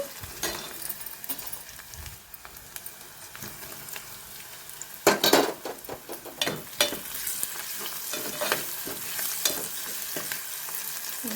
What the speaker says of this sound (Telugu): ఇప్పుడైతే మామిడికాయ ముక్కలు, అరటికాయ ముక్కలు అయితే వేసేసుకుంటున్నాను